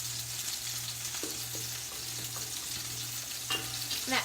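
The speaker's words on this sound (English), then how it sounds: "with the Parmesan in it, this does need a good bit of stirring" Parmesan cream sauce stirred in a pan, a steady soft sizzle and bubbling with faint scraping strokes from the spoon, close and continuous with no talking.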